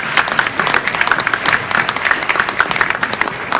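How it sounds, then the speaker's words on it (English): Audience applause at a roast event, a steady wash of many hands clapping, fairly close and loud, sustained throughout without a break. "Let's get a round of applause."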